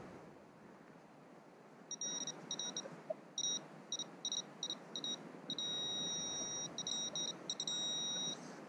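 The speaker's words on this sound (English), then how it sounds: "the way the Knox is giving that double beep as I go over it" A Nokta Makro Simplex metal detector emits short, high electronic beeps in quick pairs, repeating irregularly over a soft background hiss in an old city park.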